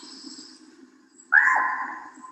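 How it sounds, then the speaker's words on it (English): A single harsh, croaking common raven call rings out loud and close after a quiet stretch, hoarse and drawn-out with a raspy throat-like tone. "here is the common raven. Sounds like a crow with a sore throat"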